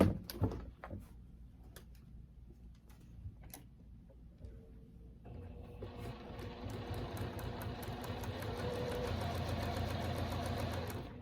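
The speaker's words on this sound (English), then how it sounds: "now I'm going to sew 1/4 inch seam along that edge" Sewing machine stitching a quarter-inch seam through layered quilt fabric, starting after a few quiet ticks and then running as a steady close mechanical whir to the end.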